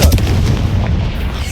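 A heavy booming fire-spell explosion from Hogwarts Legacy, loud and close, rumbling without a break through the whole moment.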